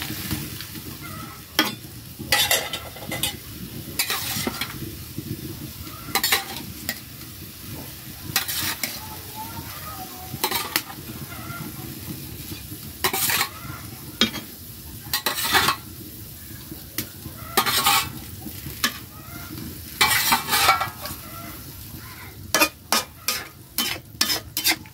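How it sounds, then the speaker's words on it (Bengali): Fish and amaranth greens sizzle in a hot pan while a utensil stirs them, giving a steady frying hiss broken by repeated scraping and clinking strokes against the metal, with no talking. "এবার আমি শাকের উপরে মাছগুলো ছেড়ে দিব।"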